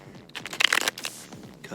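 Tarot cards shuffled against a leg, giving a short burst of soft riffling and flicking at close range, with quieter card noise on either side and some faint talk in the background.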